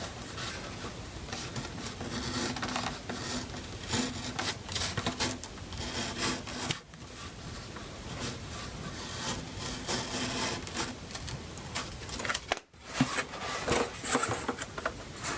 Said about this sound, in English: Might want to just bevel that center section out a little bit more.